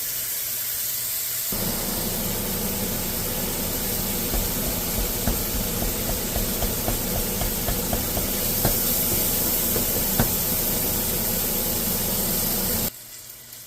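Thin-sliced sirloin browns in a hot pan with a steady, loud sizzling hiss, dotted with small pops and crackles, running continuously before cutting off abruptly near the end.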